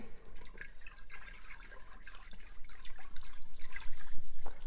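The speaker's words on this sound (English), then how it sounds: "Whisking until that sugar has dissolved." Sugar being whisked into liquid in an Instant Pot gives a continuous wet, splashy swishing that swells into quick rhythmic strokes toward the end, close and fairly loud, with no voices.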